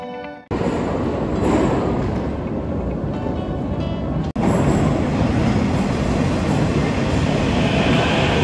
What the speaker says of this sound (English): So that was the world's deepest metro station